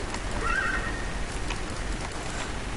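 A horse in the Minecraft video game lets out a short, fairly faint whinny near the start, set against a steady hiss of background noise, with no talking.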